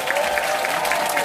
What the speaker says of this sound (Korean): 프레지덴셜 앰버서더 이창미 사장님 모실 때 큰 환영의 박수 부탁드립니다.